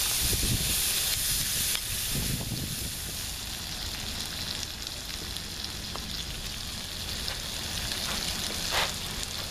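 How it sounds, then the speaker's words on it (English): Vegetables for a Philly cheesesteak sauté in a pan on a camper van stove, giving a loud, dense, continuous sizzle with faint spatula scrapes close by, no voices. "That's sauteing up nicely."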